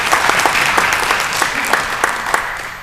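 An audience applauds steadily at a speaking event, a dense, even wash of many hands clapping nearby for the whole stretch, with a faint voice or two mixed in.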